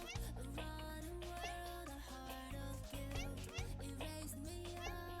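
A cat in a video game meows repeatedly over steady game music, each cry short and fairly loud.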